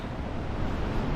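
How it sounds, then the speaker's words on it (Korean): Water at a surfing park in Siheung churns in a steady, broad wash of surf, continuous and fairly loud, with no voices over it. "혹시 뒤에 물소리 들리시나요?"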